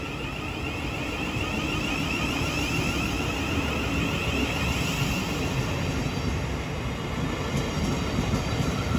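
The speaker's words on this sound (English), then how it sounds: "the 1027 Thameslink service to Sevenoaks" A Thameslink electric train rolls into Bromley South station, a steady loud rumbling roar with a high whining tone layered over it, sustained and unbroken throughout, with no voices.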